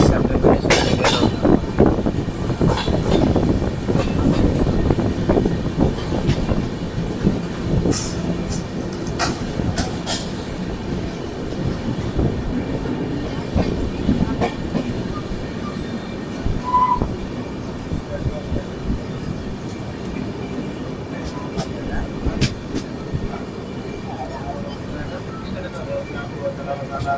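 The Navjeevan Superfast Express between Vijayawada and Khammam rolls along the rails with a continuous loud rumble, rattling and clatter heard from close inside, bursts of wheel noise rising and falling.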